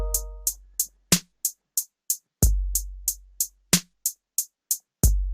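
A trap drum beat with closed hi-hats ticks in a steady rapid pattern, punctuated by deep booming 808 kicks and sharp snare hits, loud and alone with no talking.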